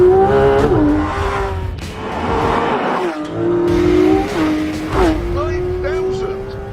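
A Porsche 911 with a naturally aspirated 4-litre flat-six, 500 horsepower and a 9,000 rpm redline, revs hard through repeated climbing and falling engine notes, loud and close, with someone talking over it.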